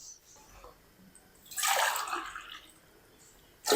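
Water pours into a cooking pot while beef yakhni pulao is being made: a brief, moderately loud rushing splash in the middle, with quiet kitchen stillness before and after.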